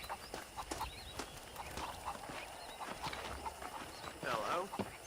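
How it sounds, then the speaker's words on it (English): Horse hooves clip-clop in the video game Red Dead Redemption, a steady rhythmic trot of hoofbeats with a brief whinny near the end, set against faint outdoor ambience. "let's see if you can still ride a horse"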